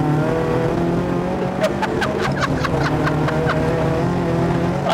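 Restored Datsun with an SR20 engine making over 400 bhp, running on low boost, accelerating with a loud, steady, close-up engine roar that holds throughout.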